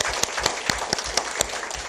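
Brief applause from attendees at a district office staff meeting, a run of distinct sharp claps at an even pace, moderately loud in a room and fading after two seconds.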